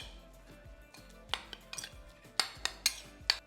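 A utensil scrapes and clinks against a bowl while beef tartare is mixed with salt, pepper and olive oil, giving quiet, irregular taps that turn into sharper clicks in the second half.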